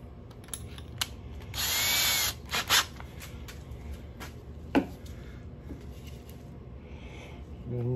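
A power drill whirs in a short burst of about a second, followed by a couple of brief spurts, close by with faint handling noise around it.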